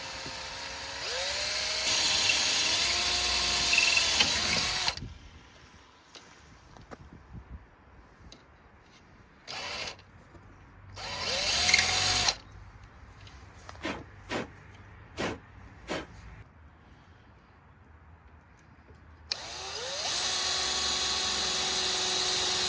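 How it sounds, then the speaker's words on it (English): A 6mm drill bit bores through a metal shim inside a grommet during an Audi RS3 intercooler install, a loud whining drill run at the start and again at the end, with short bursts and clicks between. "you're going to drill through the middle metal shim inside this grommet"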